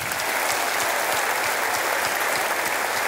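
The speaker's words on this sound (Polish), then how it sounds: "Prosimy gorące brawa może dla chłopaków." Dense, loud concert crowd applause for the band backing the singer, a continuous roar of many hands clapping at once with no pauses.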